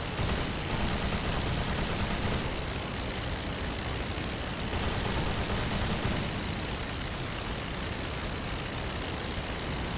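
Machine gun fire from a WWI biplane in the flight game Rise of Flight, a dense, steady rattle of shots over loud engine drone, continuous and close for the whole stretch.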